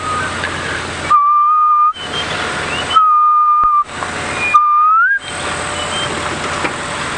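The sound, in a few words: bird call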